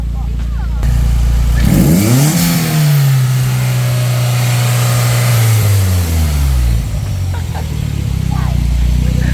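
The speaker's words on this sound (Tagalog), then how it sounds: "Gusto niyo ba makarinig ng turbo?" Turbocharged Toyota AE101 engine revs up near the microphone, climbing and holding a high pitch for several seconds before dropping back to idle.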